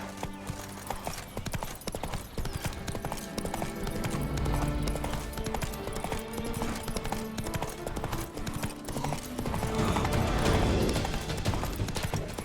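Horse hooves gallop in The Witcher 3, a fast steady clip-clop that runs without a break over game background sound and music.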